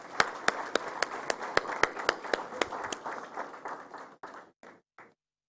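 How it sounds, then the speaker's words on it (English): An audience at an international tunnel engineering seminar applauds, with sharp individual claps ringing out over a thinner patter, then tapering to a few last scattered claps and silence. "I would like us to give them a warm round of applause."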